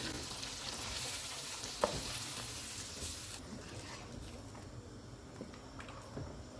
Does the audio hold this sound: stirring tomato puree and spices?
yes